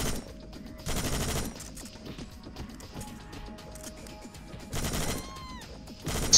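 Gunfire rattles in a zombie apocalypse survival horror game, with two loud dense volleys of shots separated by quieter scattered impacts and background game noise.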